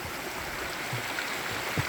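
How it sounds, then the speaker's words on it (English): A small waterfall on a hiking trail near Pigeon Forge, Tennessee gives off a steady, close rushing hiss of falling water, constant throughout with no voices. "and the waterfall."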